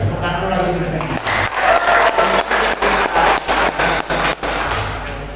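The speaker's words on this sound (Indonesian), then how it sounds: "Tepuk tangan lagi untuk kita semua" An audience at a discussion forum claps in a steady, rhythmic beat, each burst evenly spaced and fairly loud, with a voice heard at the start and end.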